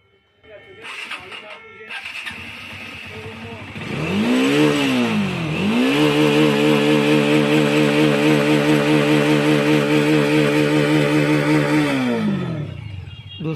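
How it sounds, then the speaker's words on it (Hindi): A Bajaj Dominar 400 motorcycle with a misfire problem starts with a few uneven sputters, then revs up and holds a loud, close, steady engine drone before dropping away at the end. "ये डोमिनोर 400 बाइक है, यानी कि उसके अंदर जो प्रॉब्लम है हम पहले आपको दिखा दें"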